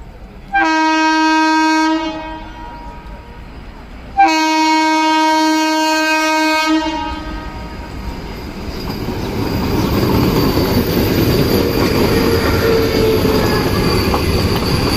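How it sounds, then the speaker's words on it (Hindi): A Vande Bharat train rolls slowly through a station, opening with two long, loud horn blasts and then a steady rumble of wheels and carriages that builds and holds as it passes close by. "बाकी ट्रेन आने वाली है वहाँ से।"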